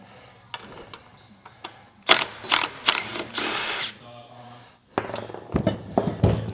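A ratchet wrench works the bottom nuts off the shock absorbers of a 1957 Chevy truck. It gives close, sharp clicking bursts with quiet gaps in between, and then a faster run of ratcheting at the end.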